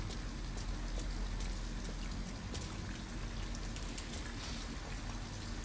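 Steady rain in the video game Detroit: Become Human makes a continuous, dense hiss with fine patter throughout, even and unbroken, with no talking.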